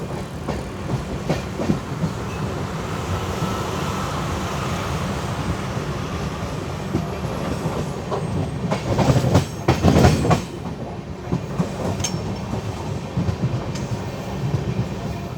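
Garib Rath Express LHB train running on rails in Kerala near Kannur, a steady close rumble with rhythmic clickety-clack of wheels over rail joints, swelling louder for a couple of seconds midway before settling back to a continuous roll.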